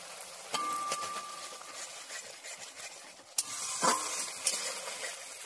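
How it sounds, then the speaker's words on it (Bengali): Ground mustard, poppy seed and green chilli paste frying in a pan with okra and potato, a soft sizzle with a few stirring scrapes and a sharp clink partway through. "এবার বাটা সর্ষে, পোস্ত, কাঁচা লঙ্কাটা দিয়ে আমি ভালো করে একটু কষিয়ে নেব।"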